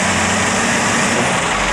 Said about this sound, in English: This is truck, 1992 Ford L9000.